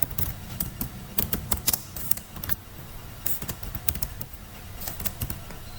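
Rapid keystrokes on a computer keyboard while Python sorting code is entered, a steady run of close, crisp key clicks with uneven rhythm and a few heavier taps, with no voices.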